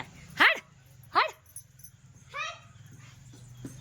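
A dog barks three times close by, spaced a second or so apart, with quieter yips in between over a low background hum.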